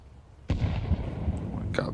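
A grenade explodes in Counter-Strike during a professional ESL Pro League match, one sudden loud blast followed by a rumbling tail and a second sharp pop at the end.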